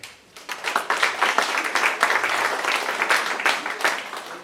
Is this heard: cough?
no